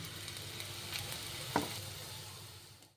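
Chopped onions and a green chili fry in a pan with a steady, close sizzle, plus a brief stirring scrape partway through.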